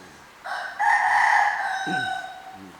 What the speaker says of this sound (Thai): ไก่มันบอกมาแล้ว